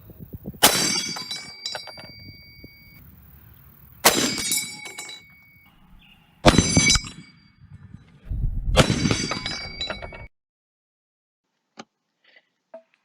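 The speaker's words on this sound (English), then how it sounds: "Its most iconic feature is its 8-round en-bloc clip, which, when ejected, makes a very satisfying ping." Metallic ping of an ejected 8-round en-bloc rifle clip, in four sharp ringing bursts separated by pauses, then near silence.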